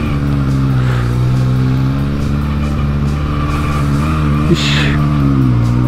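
A Honda CB350F four-cylinder motorcycle engine, tested after a cam chain tensioner and carburetor pilot screw adjustment, holds a steady, loud, continuous drone with a faint brief rise, while someone speaks briefly.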